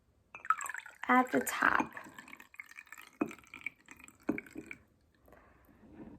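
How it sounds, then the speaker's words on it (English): Water mixture poured into oil in a jar gives faint trickling, dripping and glassy clinks, with soft splashes, under someone talking. "We're gonna pour our water mixture into our oil."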